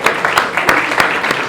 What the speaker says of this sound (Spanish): un aplauso para estos sobrevivientes de 20 años